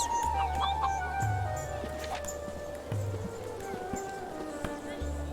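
Chickens clucking in the online role-playing game Book of Travels, several short clucks and calls repeating over a steady game backdrop of ambient tones, moderately loud and continuous.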